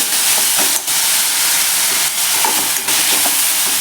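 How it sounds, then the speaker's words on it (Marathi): Grated sweet potato frying in ghee over medium heat, a loud continuous close hiss and sizzle with a few brief spoon scrapes breaking through. "आता याच तुपामध्ये आपण हा रताळ्याचा किस आहे तो घालून घ्यायचा आहे"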